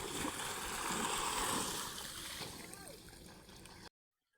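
Irrigation water from a motor pump rushes into a cotton field as a broad, steady gushing and splashing roar, close and continuous, fading slightly before cutting off abruptly near the end.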